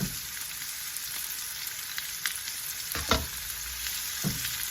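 Garlic puree fries in a pan during a plantain and vegetable dish, with a steady close sizzle and a few scraping stirs.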